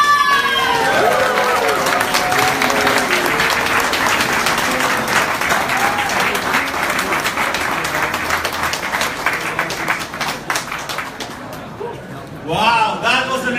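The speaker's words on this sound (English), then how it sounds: "Give him a big applause." Big audience applause at a gala dinner in Lisbon, a dense sustained roar of clapping filling the room with voices over it early on, thinning and fading toward the end before a brief swell.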